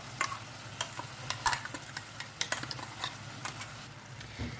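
Irregular scraping and tapping of a spoon stirring thick ground masala in a pan, with soft sizzling underneath; close and moderately quiet, no voices.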